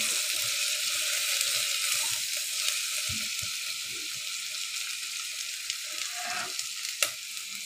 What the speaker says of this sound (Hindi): बस अब इसी स्टेज में हम इसके अंदर अपने तमाम स्पाइस ऐड करेंगे। और हल्का सा भूनेंगे।